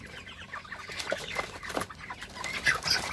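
Farm chickens cluck and squawk in scattered, irregular calls over a rustling background, with a few sharper cries toward the end.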